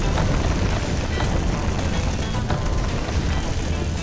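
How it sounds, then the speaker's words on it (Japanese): A loud, sustained roaring blast in the game Empyrion, with deep rumble and crackling debris noise filling the whole clip, dense and close. "久しぶりのドカーン。"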